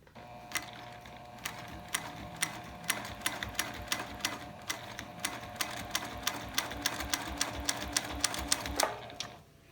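A Juki 2010Q sewing machine stitches fabric in a steady run of quick, regular clicking needle strokes, fairly quiet and close, stopping near the end, with no voices.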